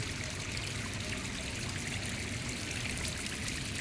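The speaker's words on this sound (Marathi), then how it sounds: "काय छान पाणी येते बघा डोंगरामधनं" Water rushing and gurgling steadily in a mountain stream near Khopoli, India, close and continuous, with no other sounds.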